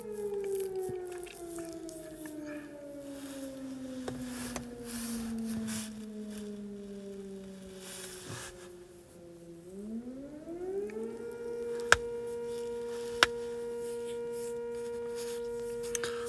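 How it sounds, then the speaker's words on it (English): A wailing siren rises and falls in long sweeping tones, fairly loud and continuous, with a couple of sharp clicks near the end. "Salakia, let this little siren die down."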